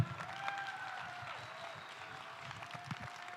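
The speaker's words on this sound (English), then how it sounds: "Big applause for our CEO, Mr. Vyacheslav Zlatkov," Faint applause from an audience honoring CEO Vyacheslav Zlatkov at a corporate presentation, a steady patter of clapping that stays low and distant throughout, with some tonal sound sitting above it.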